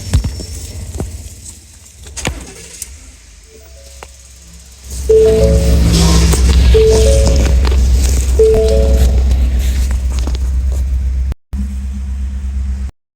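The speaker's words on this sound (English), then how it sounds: "Let's start the car and see." A Ford car with lost-communication U-code faults being started: quiet clicks and rattles, then at about five seconds the engine catches and settles into a loud, steady idle with faint warning chimes, briefly cutting out near the end.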